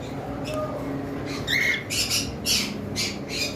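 Pet birds squawking, a breeding pair of a pied female and a lutino male, giving several loud, harsh squawks in quick bursts over a steady noisy room background.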